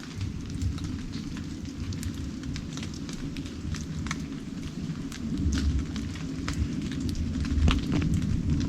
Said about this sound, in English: You can hear the dripping.